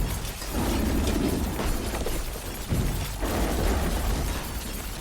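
Explosions and weapon effects from Achilles Survivor, a Vampire Survivors-style bullet-heaven game: a dense, steady wash of crackling blasts and shattering bursts with a heavier thump near the middle, no voices.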